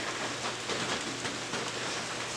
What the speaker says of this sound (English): everything is soaking wet with this rain